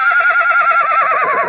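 A young black colt whinnies in one loud, close, continuous call with a shaky, quavering pitch lasting the whole moment.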